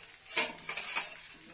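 Bitter gourd pieces being gently turned over in a pan over low heat, a few light metallic clinks and scrapes of a utensil against the pan, quiet and close.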